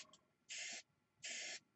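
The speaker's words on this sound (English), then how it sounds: "I always do a test out to the side to see how the airbrush is spraying" Two short hissing bursts of an airbrush spraying silver paint in a test spray off to the side, each about a third of a second, close and clean with quiet gaps between.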